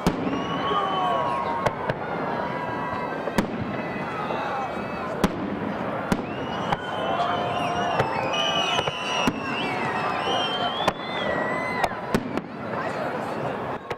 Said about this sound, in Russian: Его запускали над театром Сургут. Посмотреть на фейерверк собрались тысячи горожан.